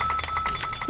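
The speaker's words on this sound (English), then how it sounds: "What was that bell sound?" A bell rings in Garry's Mod, a quick run of bright repeated chiming tones in a steady rhythm, brief and moderately loud, with a faint voice briefly at the end.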